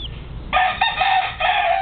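A Yellow-legged Hatch game rooster crows once, close and clear. The call is bright and shrill, rising and holding for over a second over faint background murmur.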